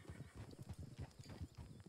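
Horse hooves clip-clop in a Red Dead roleplay game, a quick run of close, regular thuds with a brief whinny-like hint, heard alone without talk.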